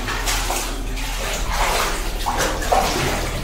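Water runs and splashes steadily beside a shrine in Baghdad that stays wet at all hours, a continuous close wash of flowing water with small sloshes and no speech.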